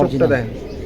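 A Bezi khaki pigeon of down shape and medium age gives a brief, close, throaty coo that quickly fades.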